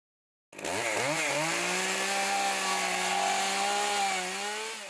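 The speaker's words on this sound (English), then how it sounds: "Artist Cameron Garby took on the challenge of carving using wood as his medium and a chainsaw as his tool." A chainsaw cuts into wood for sculpture carving, starting abruptly and then running as a loud, close, continuous whine that revs up and down briefly before settling into a steady high drone.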